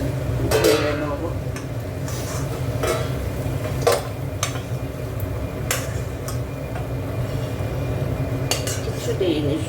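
A cooked Bengali vegetable chorchori is scraped out of a pan, with metal utensil clinks and knocks against the pot over a low steady background hum.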